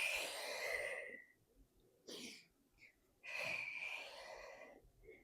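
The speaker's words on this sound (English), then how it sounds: "So it's a short breath here" Quiet, close breathing during a gentle Pilates exercise: a long airy breath, a brief puff, then another long, slightly wheezy breath, with a faint soft click near the end.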